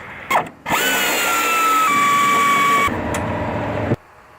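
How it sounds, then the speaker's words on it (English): A power ratchet fitted with a 15mm deep well socket spins off nuts from the top of the rear shocks on a Pontiac GTO, a loud, steady close-up whirring burst of about three seconds, then a brief lower hum before it stops. "now we're going to get in there with a 15mm deep well socket and a speed ratchet"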